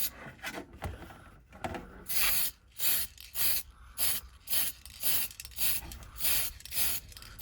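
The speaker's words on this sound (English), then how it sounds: "I'm just going to gently dust this over. Try not to get too much overspray in the workshop." PS spray paint hisses onto a clear Lexan polycarbonate body for a Tamiya Hornet EVO in a workshop, in about nine short, even bursts of a second or less, close and regular with brief gaps, after some rubbing handling noises.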